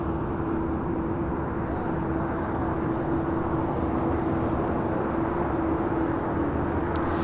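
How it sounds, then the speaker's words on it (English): A China Eastern Boeing 777-300ER takes off from LAX with a steady, broad jet roar and a faint tonal hum, continuous and loud without letup. "This is China Eastern Airlines 586 taking off to Shanghai on a 777-300ER."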